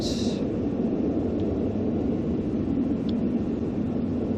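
Twin jet engines of a Cessna Citation S550 in the X-Plane flight simulator: a steady, unbroken roar and rumble that holds at an even level from start to finish, with no voices.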